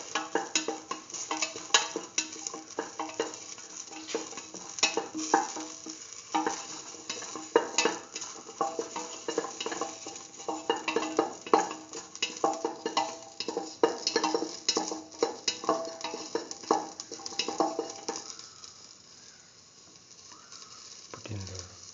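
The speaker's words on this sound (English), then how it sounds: "Keep on sauteing." Split mung bean and eggplant stew sauteing in a pan, with a soft sizzle beneath repeated scraping and stirring strokes, close and moderate in level, easing off near the end.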